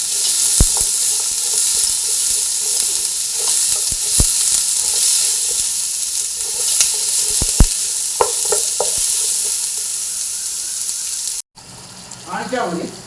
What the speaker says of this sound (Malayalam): നല്ല ഇതൊരു ബ്രൗൺ കളറാകട്ടെ, അതുവരെയിട്ട് നമുക്ക് വഴറ്റാം